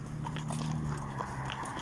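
A horse walking on a trek through Yakutia and Mongolia, its hooves clip-clopping in an even rhythm under steady outdoor noise, with no voices.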